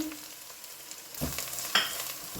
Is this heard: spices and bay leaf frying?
yes